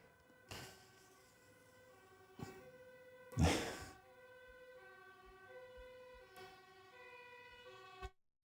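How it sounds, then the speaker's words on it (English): An ambulance siren wails faintly in the distance, with steady wavering tones over several seconds behind a quiet indoor background. A few louder thumps or handling knocks break in at points. "I had an ambulance that just goes straight by"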